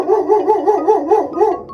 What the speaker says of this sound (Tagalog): At eto nga yung aso ng kapitbahay namin.